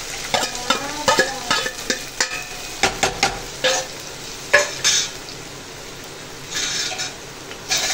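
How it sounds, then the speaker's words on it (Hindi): Chopped vegetables sautéing in a pan with garlic and ginger paste, bright sizzling broken by a run of sharp spatula scrapes and clinks against the pan, close and loud, then a softer steady sizzle. "इनको हल्का सा सौते कर लेंगे।"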